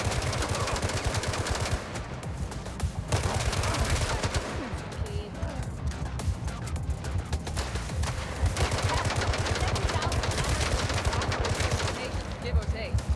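Dense, rapid gunfire from the video game Gangster Mirage City rattles almost without pause, loud and close, with battle noise and faint voices mixed underneath.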